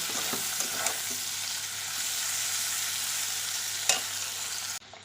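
Drumstick stems stir-fried with salt and turmeric, a steady close sizzle with a few spatula scrapes and knocks, ending abruptly.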